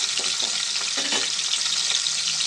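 Dried fish fry in hot oil until golden, a constant close sizzle with a few soft stirring knocks from a utensil near the start, and no voices.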